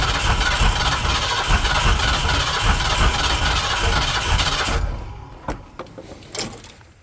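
A turbocharged 351 engine roars loudly and steadily at full throttle with the fuel pump shut off, then the noise drops abruptly, leaving faint knocks and clicks as it winds down.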